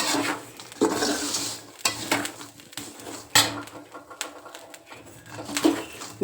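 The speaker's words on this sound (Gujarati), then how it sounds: "મીઠું થોડુંક કપાઈ દીધું અને મીઠાની અંદર શેકું છું" Peanuts roasting in salt in a pan over a low gas flame, stirred with repeated scraping and rattling clatter in short bursts, fairly close, with no talking.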